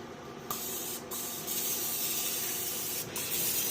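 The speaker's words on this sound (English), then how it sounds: "I do have some olive oil spray." Olive oil cooking spray hisses in short bursts onto a stoneware casserole dish, a steady close spray with brief pauses and no talking.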